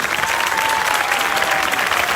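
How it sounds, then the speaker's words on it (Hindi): A crowd at the Revival Festival 2019 ribbon cutting, a worship event, breaks into loud applause. The clapping is thick and sustained from start to finish, with no speech over it. "जोरदार तालियां बजाएंगे।"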